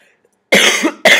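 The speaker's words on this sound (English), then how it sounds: "Excuse me, I got a big cough." A single loud, harsh cough bursts out of near silence, followed by a second shorter cough just after, close to the listener.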